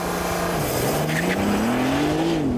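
Porsche 911 GTS launching hard from a standstill on a 0–60 and quarter-mile run, engine note climbing steadily and loudly through the revs for the whole stretch with no one talking.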